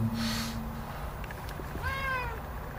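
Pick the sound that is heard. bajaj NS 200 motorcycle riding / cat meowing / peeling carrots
cat meowing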